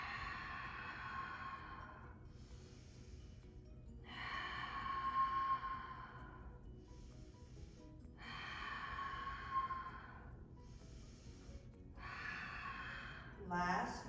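Breaths drawn during a beginner-to-intermediate reformer Pilates flow, heard as several soft airy breath sounds in slow, evenly spaced bursts, close and quiet, without speech.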